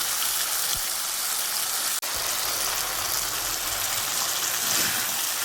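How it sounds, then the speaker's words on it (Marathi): Spiced capsicum and potato vegetables sizzle in oil in a pan, a constant dense crackling hiss close by, briefly broken by one sharp click midway, with no voices. "तर चला असं फ्राय करायला लागलेले आहे"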